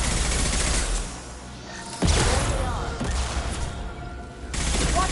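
Sustained bursts of gunfire in a Mass Effect firefight, rapid shots rattling loudly with a heavy thump midway and the shooting dropping and resuming.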